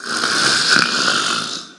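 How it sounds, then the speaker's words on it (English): Snoring, a single drawn-out raspy breath, loud and close, rising and fading over about two seconds with no other sounds. "The snoring starts."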